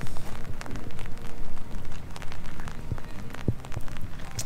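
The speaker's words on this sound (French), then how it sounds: "Il pleut des cordes" Heavy rain pours steadily close by in the Pyrenees, a dense, continuous hiss with occasional louder drops and patters.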